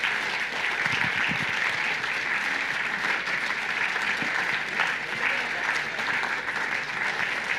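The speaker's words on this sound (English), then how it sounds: "Keep the claps going, please." Sustained audience clapping at a startup demo day, a dense, even roar of many hands filling the room continuously, fairly loud and steady, with faint voices mixed in beneath it.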